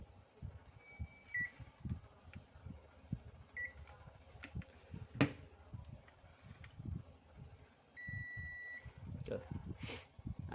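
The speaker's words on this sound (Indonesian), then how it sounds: "Lalu kita akan ukur menggunakan buzzer." A multimeter continuity buzzer gives short beeps while TV speaker wiring is tested on a Polytron PLD-24T1850 LED TV with no sound, with clicks and handling noise around it and quiet talk at times.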